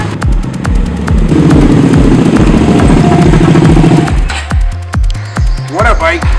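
A DSK Hyosung Aquila Pro 650 cruiser's engine runs with a steady low throbbing rumble for about four seconds, then drops to a quieter idle with a few revving blips near the end.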